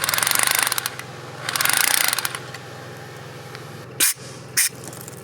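Two loud, grinding bursts of a hammer drill boring into a concrete slab, followed by a low steady hum and two brief sharp knocks.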